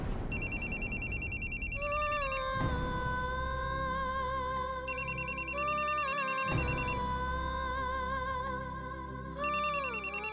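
A phone's electronic ringtone trills repeatedly in loud, layered bursts over a steady background tone, in a household setting, with short gaps between rings.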